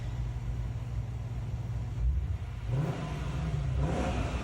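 A deep V8 car engine idles with a rumbling burble, then blips up into two quick throaty revs, close and loud.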